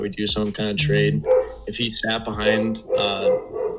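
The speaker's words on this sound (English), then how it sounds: "I apologize for the dogs in the background." Dogs bark and yip intermittently in the background of a home setting while someone talks continuously over them, the barks fairly close and mixed with a few whimpering notes.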